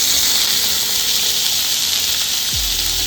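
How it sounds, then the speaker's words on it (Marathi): Chopped spring onions sizzling in hot oil in a pan for Korean fried rice, a steady loud frying hiss throughout with a low thump near the end. "तेल गरम झालं की त्याच्यामध्ये आपण ही जी आपण कांद्याची पात चिरून घेतली होती ती याच्यामध्ये"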